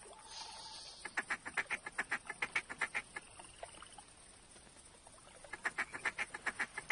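Ducks quack in the hunting game theHunter, rapid bursts of repeated calls in two runs with a pause between, moderately loud over a quiet outdoor ambience.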